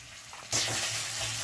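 Ginger garlic paste hits hot oil in a pan and bursts into a loud, steady sizzle partway through, continuing as the frying goes on, with quieter kitchen background beforehand.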